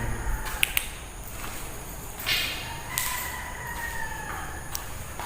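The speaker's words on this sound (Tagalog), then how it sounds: "May tilaok na yung manok ah." A rooster crows in the distance, a drawn-out call partly buried under steady outdoor background noise at an abandoned school.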